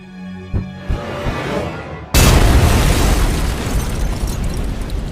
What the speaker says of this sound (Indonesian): bom itu pun meledak